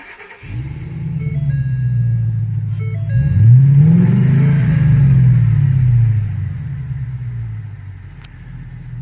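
A Ford F250 Super Duty 6.2 V8 with a Dynomax exhaust, heard with the front windows down, starts and idles with a deep, throaty rumble, swelling briefly as it revs before settling back to a steady idle.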